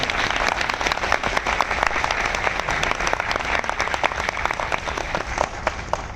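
Steady, dense clapping from a large audience at a motivational business gathering, sustained and even throughout with no break and no talk over it.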